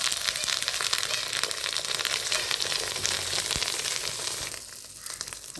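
Neyyappam sizzles and fries steadily in hot coconut oil, a dense, continuous crackle that stays loud and close throughout with no talking.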